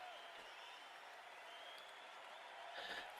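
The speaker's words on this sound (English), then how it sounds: "And applause from the crowd and dugout." Crowd and dugout clap at a cricket Test match between the West Indies and Pakistan, the applause a steady, distant, fairly faint patter that swells slightly near the end.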